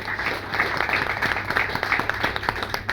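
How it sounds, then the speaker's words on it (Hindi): An audience applauding at a talk about a rural health mission, a dense, steady burst of clapping from many hands filling the room, loud and sustained with no voice over it. "एक बार जोरदार तालियां इस मिशन के लिए"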